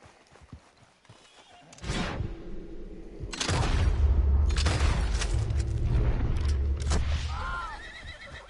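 Horses neigh and their hooves clip-clop in a video game, with booming blasts that sound like gunfire. The sound starts quietly and swells to a loud, busy stretch with whinnies near the end.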